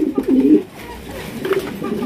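A pair of large black Holicopper pigeons cooing up close, loud throaty coos in bursts at the start and again near the end, with a faint voice in the background.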